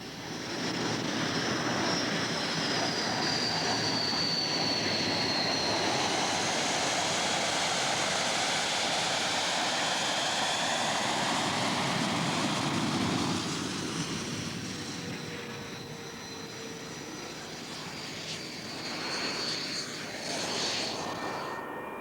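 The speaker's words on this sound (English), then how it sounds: "The intake guards removed and the engine started." A jet aircraft engine starts with a loud, steady roar and high whine, holding strong before easing slightly and swelling again toward the end.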